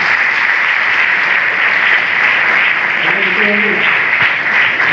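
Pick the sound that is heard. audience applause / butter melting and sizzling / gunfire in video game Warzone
audience applause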